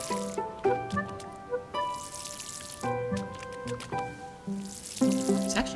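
Watering crops in the farming video game Paleo Pines: soft splashy drips and liquid squishes repeating in short bursts, layered with bright chiming game tones and music-like notes.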